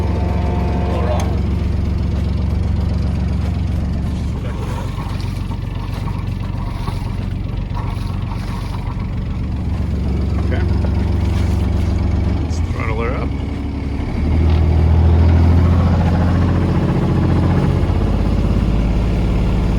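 Inboard diesel of a 1987 Catalina 34 sailboat idling, a steady low throb running the whole time, rising briefly in loudness near the end, with someone talking over it intermittently.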